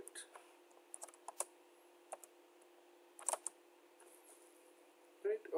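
A computer keyboard is typed on while Python code is entered, with sparse clicks and short bursts of keystrokes, close and fairly quiet.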